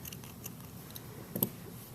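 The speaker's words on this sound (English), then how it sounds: "the string is really long, so I'm just going to cut it." Scissors snip through long yarn string while finishing a knitted Spiderman beanie, a single soft crisp cut near the end amid faint ticking handling sounds, close and quiet with no talk.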